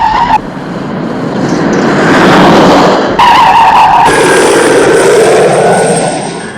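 An out-of-control car skids toward a crash, its tires shrieking loud and sustained. A roaring engine swells underneath, a sharp cut breaks the sound midway, and the squeal returns with a high whine.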